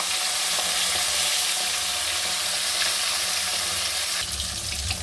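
Hilsa fish fries in a mix of white oil and mustard oil, producing a loud, dense, continuous crackling sizzle close up that shifts in texture near the end.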